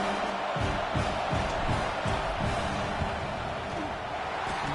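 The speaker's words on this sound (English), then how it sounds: "This crowd trying to do its part to get inside the kicker's head" A stadium crowd at a college football game between FSU and Ohio State roars steadily during a field goal attempt, a dense, loud wash of voices and cheering that holds at an even level throughout.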